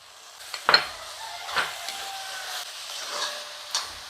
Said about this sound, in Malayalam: ഇനി നമ്മുടെ തക്കാളി ഇട്ട് കൊടുക്കാം.